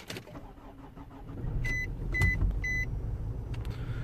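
A 2007 Nissan Pathfinder with ABS and ESP warning faults being started: the starter cranks, the engine catches and settles into a running idle, with several electronic chimes sounding over it.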